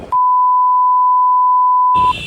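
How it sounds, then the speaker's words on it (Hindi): A censor beep, added in editing, cuts in as one loud, steady electronic tone that holds for about two seconds, with brief bits of other sound just before and after it. "मुझे बीप लगानी पड़ेगी यहाँ पे"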